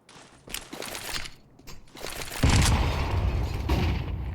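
Gunfire from a Counter-Strike esports match, G2 versus Eternal Fire at IEM Rio 2024, including AK rifle shots: sharp bursts and pops scattered through the clip, building to a sustained loud barrage of shots in the second half.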